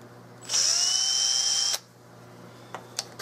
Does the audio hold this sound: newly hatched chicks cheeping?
no